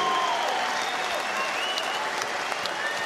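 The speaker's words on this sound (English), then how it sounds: "how about a round of applause for these two top men?" Boxing arena crowd applauding two fighters after a twelve-round championship bout, Josh Warrington versus Kiko Martinez, a dense continuous wash of clapping and cheering at steady loudness.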